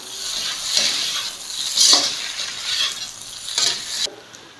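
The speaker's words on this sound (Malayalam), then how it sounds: "ഇനി എല്ലാം കൂടി ഒന്ന് മിക്സ് ചെയ്യാം" Dragon chicken with white sesame seeds being stirred in a pan, soft scraping strokes sweeping through a steady sizzle with several louder swishes, close and alone.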